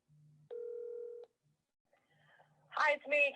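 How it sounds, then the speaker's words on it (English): Phone keypad tones as a call is placed: a low tone, a long steady beep, then a few quieter blips, followed by a short burst of voice from the line at the end, all close and clear. "I'm going to have to call her now."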